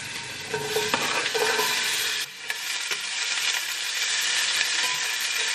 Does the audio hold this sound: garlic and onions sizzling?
yes